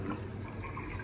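Hot water pours steadily out of cooked rice noodles as they are strained, a continuous close splashing rush.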